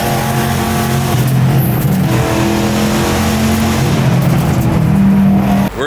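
A race car roars up the course at a hill climb event, a loud, steady engine drone rising and shifting in pitch as it accelerates close by, with no one speaking.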